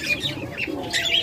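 Caged pigeons or doves kept for sale coo softly in short, close throaty phrases, with light chirps and rustling in between, no talking.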